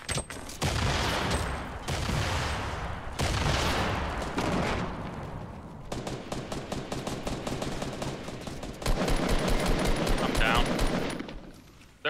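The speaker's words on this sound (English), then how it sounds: "Watch out, we're getting sniped from behind," Rapid gunfire bursts and sharp sniper-style shots rattle through a Fortnite match, loud and near, with dense strings of shots broken by brief pauses and faint voices under the shooting.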